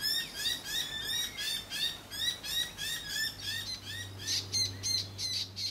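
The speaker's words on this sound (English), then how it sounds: "The baby's making little trilling noises." Rapid high chirping trills from a young owl repeat in quick pulses, steady and fairly close, with a low hum underneath and no talking.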